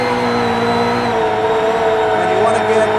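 A rally driver's 862bhp Subaru Huckster rally car accelerates hard in third gear, a loud, sustained engine roar with steady high harmonics and a shift in pitch partway through, close by with voices talking over it.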